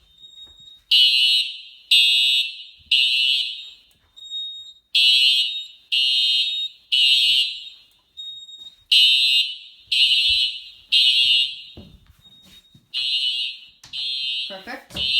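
A home fire alarm system sounds during a test, loud repeated high-pitched beeping bursts in a steady on-off rhythm with brief gaps, and faint noises near the end.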